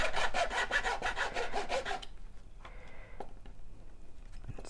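Rhythmic back-and-forth hand sawing through a piece for a homemade model railway track cleaning wagon, about a dozen close, loud strokes, then quiet with a few faint knocks and handling sounds.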